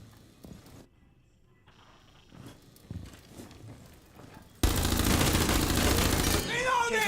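Gunfire bursts in a Rainbow Six match, a few scattered shots and footsteps early on, then a sustained loud fusillade that dominates the last few seconds, with faint voices in the background.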